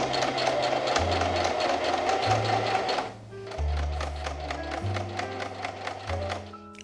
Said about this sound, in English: now I'm gonna sew along the side seam here on this line that I marked